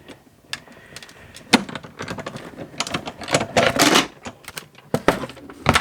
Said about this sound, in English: I quickly die cut that out.